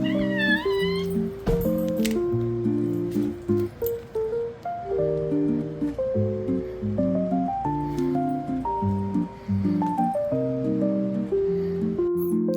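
A cat meows repeatedly and insistently, with several drawn-out, rising and falling cries close by. Soft rustling and faint musical tones sit in the background.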